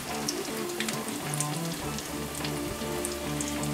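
Salmon croquettes frying in a skillet, four patties at once, giving a soft steady sizzle like light rain on a surface, with a faint low hum underneath.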